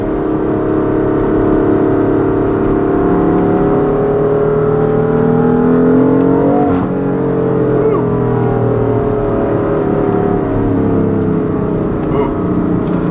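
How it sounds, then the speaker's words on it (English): A tuned 2016 BMW M3 with a DCT gearbox and mid-pipe accelerates hard. Its rising engine note drops at a gear change and climbs again, loud and raspy from inside the car. "the noises of this car are kind of obnoxious, but I love it"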